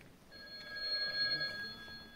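A telephone bell rings in a rapid steady trill during an amateur village theatre performance, moderately close and heard alone against a quiet background.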